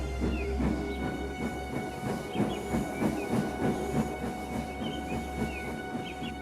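A steam locomotive puffs steadily in rhythmic chuffs with continuous hiss, while a steam whistle sounds in short repeated toots above it, fairly close throughout.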